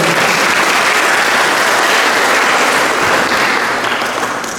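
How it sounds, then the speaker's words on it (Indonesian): Loud, continuous audience applause at a GMKI anniversary celebration and book launch, dense clapping that holds steady and then eases slightly at the end. "tepuk tangan dulu buat anak"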